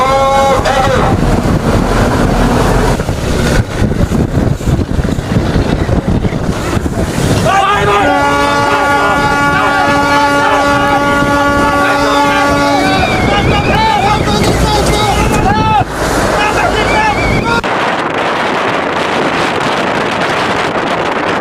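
Philippine fishing boats flee at sea in the waters off North Sulawesi, heard as a loud, steady roar of engine and wind buffeting. A sustained tonal drone rises for several seconds midway, and the rush continues unbroken to the end.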